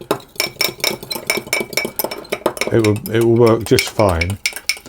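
A spoon stirs mixed spice into milk, sending rapid metallic clinks against the bowl, close and fairly loud, while a person speaks briefly over the stirring.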